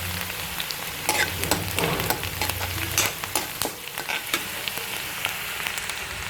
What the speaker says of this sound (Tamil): இது லேசாக டிரான்ஸ்பரண்ட்டாக வதங்கினா போதும், ரொம்ப ப்ரௌனிஷாக வதங்கணும்னு தேவை கிடையாது.